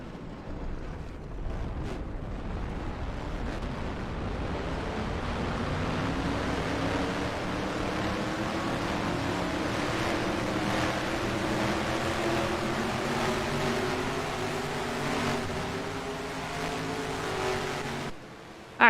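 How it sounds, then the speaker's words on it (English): Engines of a pack of simulated stock cars in NASCAR Racing 2003 at Talladega Superspeedway drone steadily and rise in pitch together under a broad roar, continuous and fairly loud, with no talk. "Start your engines."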